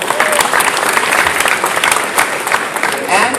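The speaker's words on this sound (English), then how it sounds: "Round of applause for Ricky." Audience applause after a startup investor is introduced at a pitch competition, a dense, steady wash of clapping for a few seconds with some voices mixed in.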